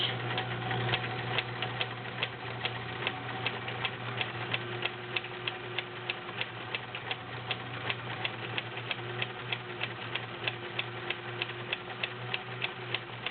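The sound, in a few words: vintage Kenmore model 1703 sewing machine sewing stretch stitch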